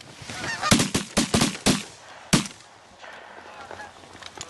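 Geese honk repeatedly during a duck hunt, mixed with several sharp gunshot-like bangs clustered near the start, then quieter calling birds in open air with no talk.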